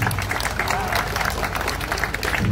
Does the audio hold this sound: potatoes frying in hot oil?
no